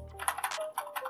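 Quick bursts of clicking keys on an HP KM300F RGB gaming keyboard, a rapid, close, crisp rattle of several keystrokes in a short run.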